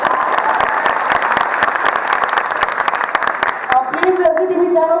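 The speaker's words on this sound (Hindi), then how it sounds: "प्लीज एक बार जोरदार तालियां हो जाए।" Loud applause from an audience at a teachers' meet-up in Patna, dense steady clapping filling the room before voices break in near the end.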